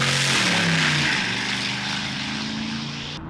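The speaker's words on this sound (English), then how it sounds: "People doing burnouts." Loud, close engine roar from a car doing a burnout at a cold-weather car meet in Houston, strongest at first and then gradually fading over a few seconds, with no talk.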